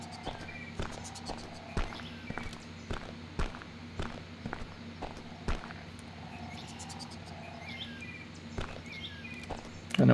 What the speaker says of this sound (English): So I'll just generate normal footsteps here, and we'll hear the reverberated ones.